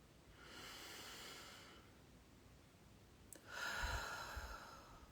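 Slow, audible breaths taken as a calming exercise for anxiety, a long soft inhale followed after a pause by a stronger, airy exhale with a snort-like edge, close and quiet with no talking.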